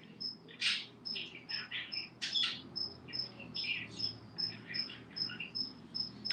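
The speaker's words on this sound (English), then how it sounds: "Can you hear the bird in the background?" Repeated short chirps and tweets in the background, mixed with a steady insect-like trill, with no talking.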